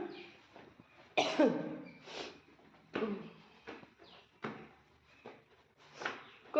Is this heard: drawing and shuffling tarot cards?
no